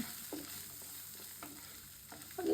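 Potatoes fry in a pan with salt and turmeric, giving a low, steady sizzle broken by a few soft scraping stirs, with a louder sputter of frying near the end.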